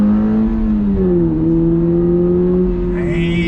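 Subaru BRZ sports car pulling hard on throttle after downshifts, engine note rising steadily in a loud, close, continuous rev with a brief higher whine near the end.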